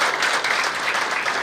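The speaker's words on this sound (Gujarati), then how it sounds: "ચલો આપણે બધા તેમનો તાળીઓના ગડગડાટથી સ્વાગત કરીએ." An audience at an indoor business seminar claps steadily, a dense wash of applause welcoming the speakers, even and sustained throughout, no voices.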